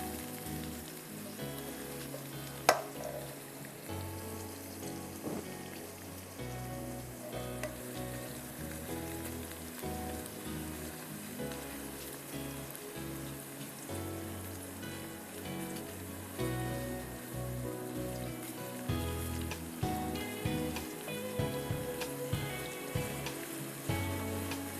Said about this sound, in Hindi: प्याज को हम थोड़ा सा कलर देंगे।